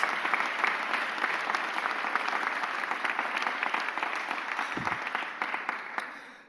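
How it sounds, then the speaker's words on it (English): An audience at a mayor's press conference gives municipal workers a long round of applause, many hands clapping steadily and fairly close before the sound tapers off at the end. "Give our municipal workers a huge round of applause"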